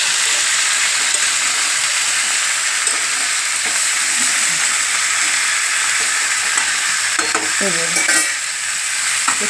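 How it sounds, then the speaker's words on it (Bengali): Mixed vegetables, including sweet potato, fry in a pan for Bengali shukto, sizzling in a constant close hiss. Stirring scrapes through it, with a few sharper strokes near the end, over the steady drone of a kitchen chimney fan. "সবজিগুলো একটু ভাজা ভাজা মতন হবে তার"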